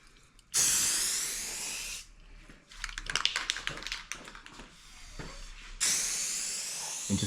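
Aerosol spray paint hissing onto a rifle as a base coat, two long steady bursts with a stretch of tapping and rattling handling noise between them.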